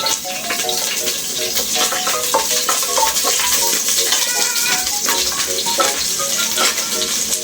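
Garlic sizzles in hot cooking oil, a bright, dense crackle and spatter that stays loud and continuous throughout, with no talking.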